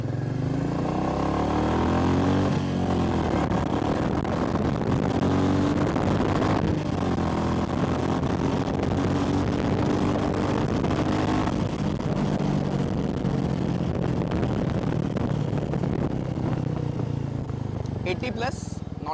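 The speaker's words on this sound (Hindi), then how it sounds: "इंजन की क्रैंकलिंग की आवाज़ अलग आती है और साइलेंसर की आवाज़ के साथ सिंक नहीं होती है" A Royal Enfield Meteor 350 Fireball (2023) engine is revved hard in third gear, a steady loud exhaust drone that climbs in pitch over about nineteen seconds, accompanied by wind rush from riding.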